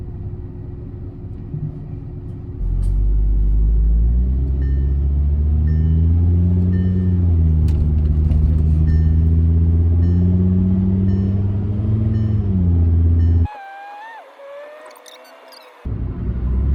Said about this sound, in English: we'll be able to potentially hear together if I'm still getting this rev flaring in between some of the gears